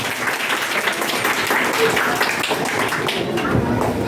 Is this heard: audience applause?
yes